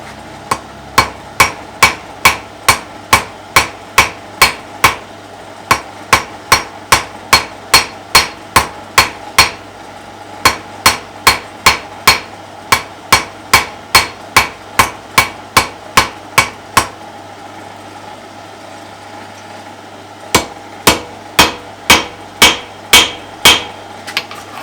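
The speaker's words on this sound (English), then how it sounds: "it's a weak part of the anvil, so I've got to keep forging it down a bit" Hammer blows ring sharply on a blacksmith's anvil while forging a hearth crane part, a fast, even series of loud metallic strikes with a brief pause midway, then another burst.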